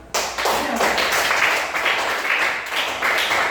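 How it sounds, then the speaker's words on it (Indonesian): A classroom group of students clapping together, a burst of close, dense hand claps that starts abruptly and carries on steadily for several seconds. "tepuk tangan"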